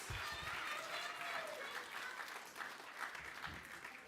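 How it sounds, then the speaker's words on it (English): An audience at an Inauguration Day ceremony for a Kid Governor gives a steady, loud round of applause, dense clapping filling the whole stretch, with a voice briefly heard beneath it. "a round of applause, a thunderous round of applause for your brand new Kid Governor Keudy Martinez."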